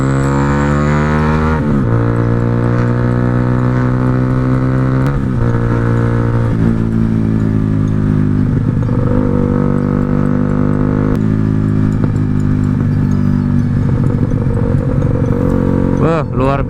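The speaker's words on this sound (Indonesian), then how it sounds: "Luar biasa bacotnya nih knalpot Proliner ya." Motorcycle fitted with a loud Proliner aftermarket exhaust, engine droning close and loud throughout with several rises and dips in revs, a deep, raspy continuous tone.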